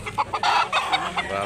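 A White Leg gamecock at a chicken sale in Consolacion, Cebu gives short, nasal clucks and brief crow-like calls in a quick burst, with faint background voices.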